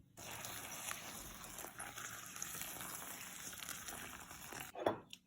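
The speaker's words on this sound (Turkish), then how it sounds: "Şimdi üzerine sıcak su ilave ediyorum." Hot water poured over rose petals and sugar for rose sherbet makes a steady, close pouring hiss and splash that runs for several seconds, then ends with a brief clatter.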